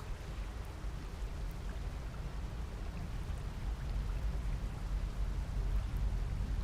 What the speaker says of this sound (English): Oh no, screen shaking. That means it's raining.